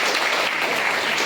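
Steady, dense applause from an audience clapping for students honoured for their exam marks, continuous and fairly loud throughout with no voices on top.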